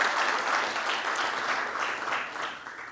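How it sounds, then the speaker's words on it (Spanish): A church congregation claps together during a worship service, a dense wash of applause that stays steady and moderately loud for a few seconds before easing off slightly. "Dale un aplauso al que vive."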